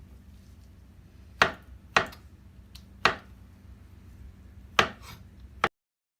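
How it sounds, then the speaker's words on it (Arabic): A knife cuts beetroot into cubes for a salad, five sharp, separate chops on a board at an irregular pace, close and crisp against a quiet room. "قطعهم مكعبات."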